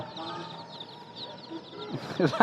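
Chickens and chicks cluck softly in the background over a steady hum at a pet shop in Tongi Bazar, with a few sharper, louder clucks near the end and some voices nearby.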